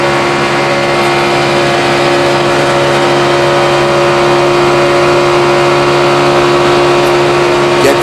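Onboard sound from a NASCAR Sprint Cup stock car racing at Talladega in 2011, a loud, constant high-revving V8 engine drone with steady harmonic whine filling the whole stretch, close and unbroken.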